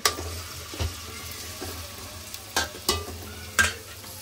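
Onion, ginger and garlic fry for an Agri-Koli style mutton curry, a steady close sizzle broken by several sharp clacks of a spoon against the pan as it is stirred.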